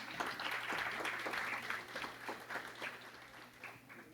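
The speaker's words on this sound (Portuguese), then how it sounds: "Salva de palmas, por gentileza" Faint applause from a conference audience at a round-table session, scattered distinct claps forming a modest patter that thins out gradually over a low background hum.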